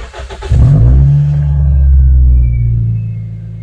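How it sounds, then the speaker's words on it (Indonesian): A car engine cranks briefly and catches, settling into a loud, steady low idle rumble close by. "Ini kita coba starter."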